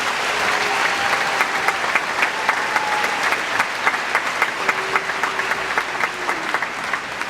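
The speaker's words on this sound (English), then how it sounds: "Let's have a round of applause again for Cole Scully" A high school graduation audience claps for a graduate in a steady, dense burst of applause, loud and even throughout with a low crowd murmur beneath it.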